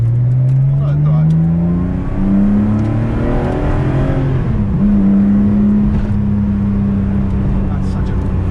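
A 1977 Porsche 911 RSR tribute's engine revs up through rising tones, loud and close, dips briefly as it shifts, then pulls strongly again.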